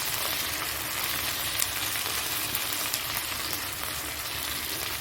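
Cumin, ginger and garlic pastes fry with garam masala for a spicy potato dum curry, giving a loud, steady, close sizzle that crackles continuously without a break.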